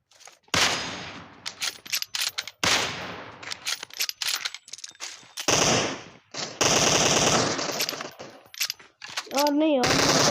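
Automatic gunfire from a shooting video game comes in sharp bursts and longer sprays, loud and close, with short gaps between volleys.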